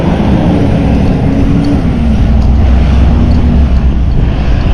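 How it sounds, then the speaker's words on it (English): Truck passing close by on a road beside a gaited horse and rider, a loud, steady low rumble with a droning tone that slowly drops in pitch as it goes by, buffeted by wind noise. "he sped up just a little as that truck was making some noise"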